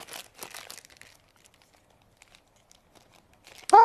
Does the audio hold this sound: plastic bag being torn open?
yes